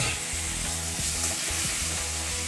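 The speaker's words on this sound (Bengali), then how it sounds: "এবারে সমস্ত মশলা আমি ভালো করে কষিয়ে নিচ্ছি" Spice masala with turmeric fries hard in a pan with a splash of water, for a ridge gourd and moong dal dish; a dense, steady sizzle and crackle runs throughout, close and loud, with no talking.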